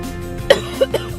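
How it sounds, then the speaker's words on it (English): Three short coughs from someone with a cold, one sharp and two softer, break up a quiet background. "I had a mini coughing attack."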